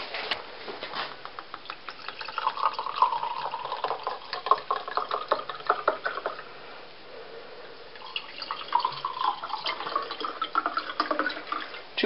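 Sparkling wine poured into a glass at a Christmas gathering, a steady liquid stream with fizzing, crackling bubbles and small clinks, close and fairly quiet, with a brief pause before the pour resumes.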